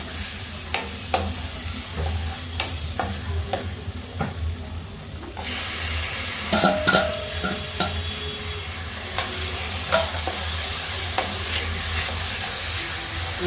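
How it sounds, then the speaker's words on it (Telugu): Tomatoes frying in a pan for a potato-tomato curry, a steady close sizzle with frequent spoon scrapes and taps, the hiss growing louder partway through, no voices. "ఈ స్టేజ్లో మనం టమాటా వేసేస్తున్నాం."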